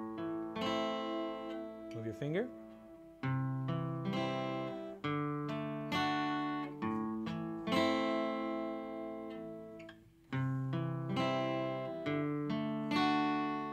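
An acoustic guitar plays a rock chord progression, picking bass notes before strumming each chord, with steady repeated strums up close and a short spoken remark partway through.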